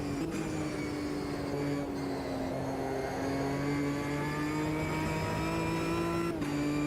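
A Ginetta race car's engine drones steadily in Automobilista 2 at Hockenheim, holding a loud, sustained pitch that rises gradually, with brief dips at gear changes.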